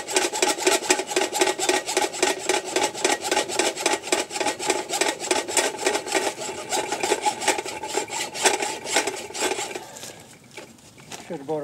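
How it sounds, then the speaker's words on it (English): A hacksaw rasps back and forth through 50-amp electrical service cable in steady, rapid strokes, close and fairly loud, slowing and breaking off near the end. "Let's see how easy it cuts with a hacksaw."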